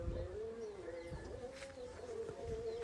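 High-flyer pigeons cooing in a low, steady, continuous drone, fairly close and alone with no voices, with faint background chirps now and then.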